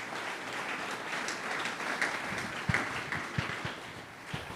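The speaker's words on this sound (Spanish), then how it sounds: "Un fuerte aplauso, por favor." Applause rises from the audience at a leaders' camp conference session, a soft, steady patter of many hands heard from a moderate distance, with a few sharper claps standing out near the end.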